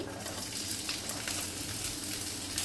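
Chopped onion sautéing in a pan with ginger-garlic paste for capsicum chicken, a steady close sizzle and crackle of frying with faint stirring, no voices.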